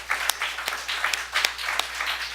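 A church congregation breaks into applause during a Sunday service, with scattered claps rising and falling in loose waves and a few sharper individual hand claps standing out, at moderate volume.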